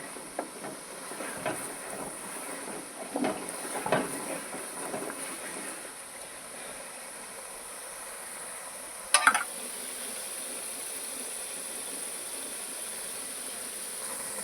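A spice mix fries in a pan with a steady, fairly faint hiss, stirred with a few soft scraping strokes early on and one brief clatter near the end.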